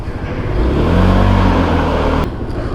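A 15-year-old motorcycle revs and pulls away, a loud close engine roar that climbs in pitch and holds for about two seconds before dropping off sharply, leaving a quieter idle-like hum.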